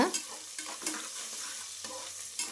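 Three large chopped onions with salt sauté in oil for banana flower biryani, making a soft, steady sizzle broken by repeated spatula stirs and scrapes, with no talking.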